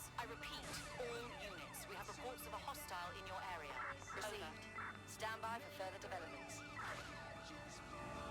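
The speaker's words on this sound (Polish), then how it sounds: "Znowu nas policja goni z tymi paczkami." Wailing police siren sweeps up and down continuously during a chase in the Watch Dogs Legion video game, layered with engine noise, game music and a talking voice.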